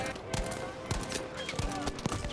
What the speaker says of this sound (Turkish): Taramalı silah.